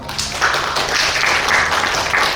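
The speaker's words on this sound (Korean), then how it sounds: "주영진 교수님을 큰 박수로 맞이해 주시기 바랍니다" Audience applause at a statistics seminar lecture, welcoming a university professor to the podium; a short, loud burst of clapping that stays full and even throughout.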